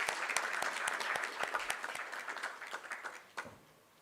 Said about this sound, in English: May we have a thunderous applause